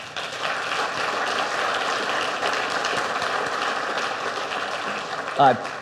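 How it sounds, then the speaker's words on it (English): A conference audience claps steadily in a dense, continuous wash of applause, ending with a brief vocal sound near the close. "Can we give a round of applause to Stacy, Julie, and John"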